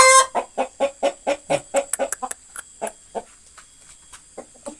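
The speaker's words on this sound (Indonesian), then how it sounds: "jika ayam kita sudah bersuara seperti ini, itu adalah pertanda ayam mau bertelur" A hen gives a rapid run of rhythmic clucks, steady and evenly spaced at first, then breaking into quicker, uneven calls that thin out and soften toward the end, close and clear.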